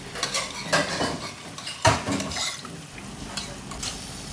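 Masala cooking in a pan is stirred with a utensil, giving a steady run of scraping, clinking strokes over a soft sizzle, close up and moderately loud, with no talk.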